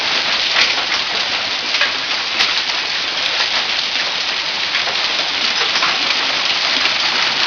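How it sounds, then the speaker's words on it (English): A major hailstorm pelts surfaces in Youngtown with a dense, steady, loud patter of countless impacts that continues without letup. "Major hailstorm."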